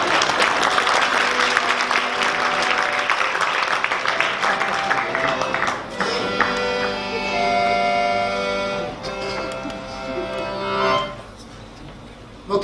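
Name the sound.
audience applause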